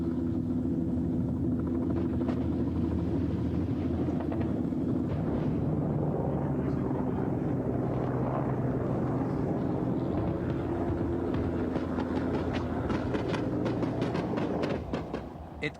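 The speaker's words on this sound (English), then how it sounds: "It came at noon, 2 Mi-24 helicopter gunships armed with rockets and cannon, flying too high for the SAMs." Two Mi-24 helicopter gunships armed with rockets and cannon fly high overhead during an attack on a Soviet convoy in Afghanistan, a continuous loud rumbling drone sustained throughout, with faint voices underneath.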